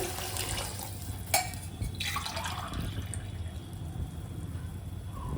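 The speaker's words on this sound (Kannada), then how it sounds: "3 ಗ್ಲಾಸ್ ನೀರು ಹಾಕೊಳಕತ್ತೀನಿ." Three glasses of water pour into a cooking pot for rice with a steady splashing fill, preceded by a brief metallic clink, in a quiet indoor room.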